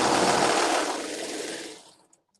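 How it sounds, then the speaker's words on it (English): A serger overlocks the edge of sweatshirt fabric in one fast, loud, whirring burst lasting about two seconds, then winds down and stops with a couple of faint clicks. "And I'm gonna serge this too."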